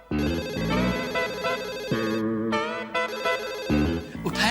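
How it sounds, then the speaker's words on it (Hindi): A telephone rings out on an outgoing call, a repeating electronic tone pattern with layered harmonic tones, steady and fairly loud through the whole stretch. "अभी पूरी रिंग चली गई"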